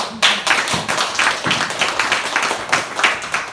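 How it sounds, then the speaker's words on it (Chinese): A crowd at a book-signing dinner gives the host a hearty round of applause, with loud, dense clapping that sustains without a break, close and full. "要不要给他掌声多一点？"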